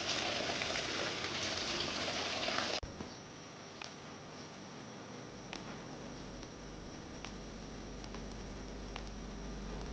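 Steady, dense rain pouring down continuously in the hills, a broad hiss with occasional sharper drops; noticeably heavier in the first few seconds, then settling to a constant patter.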